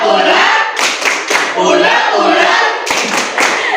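Children clapping the rhythmic 'tepuk sambal' chant in a primary school classroom, a loud group of claps and slaps mixed with chanting voices in bursts.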